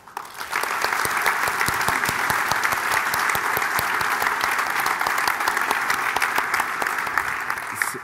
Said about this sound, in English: can you give a big round of applause to our sponsors?